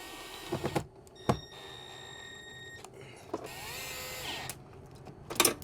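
Screws are driven into the bottom of an under-cabinet shelf with a power driver, giving several short whirring bursts with quiet gaps and clicks between them, close by and moderately loud.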